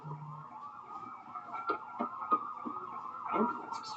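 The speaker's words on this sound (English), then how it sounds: "Ambulances. Tons of them." Wailing ambulance sirens from the video game Trauma Team rise and fall steadily throughout, with several overlapping into a dense, urgent chorus, while brief voice sounds cut in over them.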